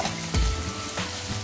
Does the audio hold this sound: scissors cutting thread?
no